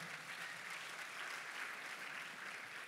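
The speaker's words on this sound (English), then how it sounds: "So a little round of applause for a quick recovery for Paul Taylor." A UFC press event audience applauds for fighter Paul Taylor, a continuous wash of clapping that sounds faint and distant, even in level from start to end.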